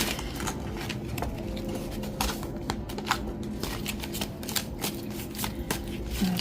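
Tarot cards being shuffled and spread, a steady run of crisp riffling and flicking snaps close by, continuing with little pause and no talking.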